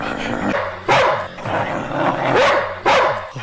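A dog barks in a film comedy scene set around a police officer's visit, with several loud bursts breaking through an ongoing noisy background of other sounds.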